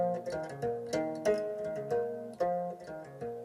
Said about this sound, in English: That's a sound of inanga